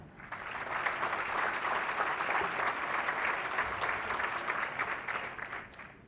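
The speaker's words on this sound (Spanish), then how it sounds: "También recibimos con fuerte aplauso a Miguel Pulido." A panel audience gives a strong, sustained round of clapping that swells in quickly, holds evenly for several seconds, and fades at the end.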